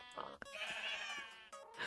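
Sheep in the Minecraft video game give a drawn-out nasal bleat lasting over a second, followed by another bleat starting, faint and close with a few soft clicks, with no talking.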